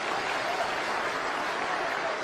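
Steady, dense applause from a live audience at a snooker match, a continuous full clatter of many hands clapping at once for the whole short burst.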